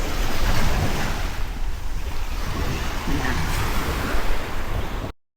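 Sea waves breaking on the Brunei shore, a steady loud broadband wash of surf with gusty wind buffeting the microphone throughout, no voices, ending abruptly.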